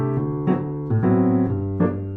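Solo piano plays a steady waltz accompaniment pattern: a low bass note followed by repeated chords in a clear oom-pah-pah rhythm, close and even in volume, with no voices.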